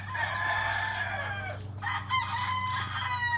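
A rooster crows loudly nearby, one long call followed by another, over a constant low mechanical hum.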